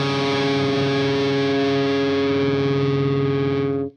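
An electric guitar with heavy distortion sustains an octave plus a tritone in one loud, dense, buzzing chord held for about four seconds before cutting off abruptly.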